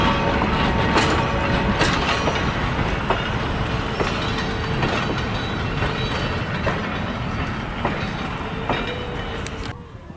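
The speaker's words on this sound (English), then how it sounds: "Central Pacific 63, the Leviathan, has come to the Lorain and West Virginian Railroad to pull some excursions over their rails." Central Pacific 63, the Leviathan steam locomotive, rolls an excursion train over the Lorain and West Virginia Railroad, a loud continuous rumble with rhythmic wheel clicks over rail joints and occasional metallic squeals.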